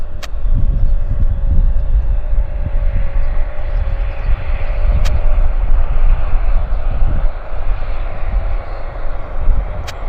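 Airliner on its takeoff roll at YVR airport: a loud, continuous broadband engine roar with a steady whine, building and holding across the whole stretch, heard from a fixed spot with no voices.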